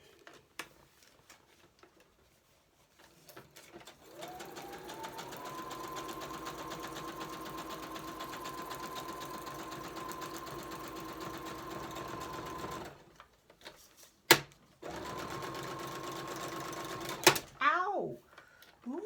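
A sewing machine stitches through the pages of a handmade junk journal with grungy corners, running steadily for about nine seconds, pausing, then making a short second burst, close and fairly loud.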